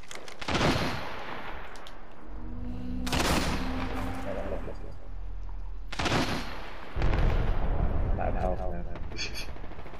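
Kraber sniper rifle fire in Apex Legends: three heavy, sharply cracking shots spaced a few seconds apart, each with a booming tail, over a busy background of game noise.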